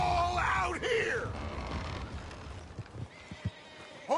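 A horse neighs loudly with a rising, wavering whinny in the video game Red Dead Redemption 2, followed by scattered thuds and hoof-like knocks under a busy, noisy background.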